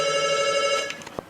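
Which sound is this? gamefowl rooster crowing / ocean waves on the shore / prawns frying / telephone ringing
telephone ringing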